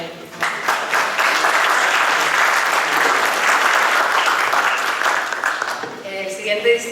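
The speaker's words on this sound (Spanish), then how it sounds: "Un aplauso para él." Sustained audience applause at a Lima urban-planning forum, a dense steady clatter of many hands lasting several seconds before fading as a voice returns near the end.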